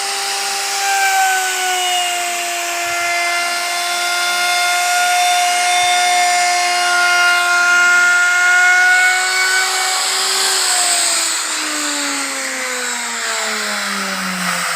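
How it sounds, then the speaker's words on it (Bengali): A milk-extracting machine at work during a Rath Yatra festival, giving a loud continuous whining drone with steady tones that slowly fall in pitch near the end. "সুন্দরভাবে মেশিন দিয়ে দুধ তুলছে"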